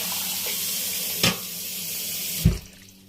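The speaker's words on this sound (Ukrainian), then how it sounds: "І саме головне в грибах мити, мити, мити, мити." Water runs steadily from a tap into a sink, with two brief knocks and splashes as mushrooms are washed under the stream.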